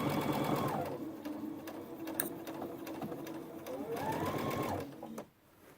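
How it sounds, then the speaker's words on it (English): A sewing machine stitches the bottom of a backpack in a close, steady mechanical whir, rising and easing in speed a couple of times before stopping near the end. "Okay, here we go. Sewing up the back part."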